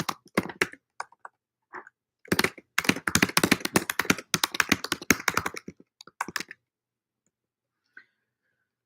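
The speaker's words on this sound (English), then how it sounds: "let me get back into the typing of the notes." Fast bursts of typing on a computer keyboard, dense rapid key clicks in clustered runs with short pauses, close and crisp, then falling silent.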